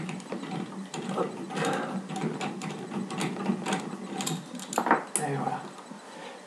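A ratchet wrench clicks in short bursts while loosening the mounting nut of a Grohe washbasin mixer tap, close up, with a person speaking briefly over the ratcheting.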